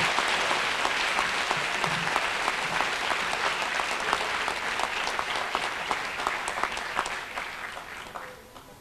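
Steady applause from a school audience at a winter sports awards ceremony, honoring the most promising athlete, dense clapping holding for several seconds before tapering off at the end.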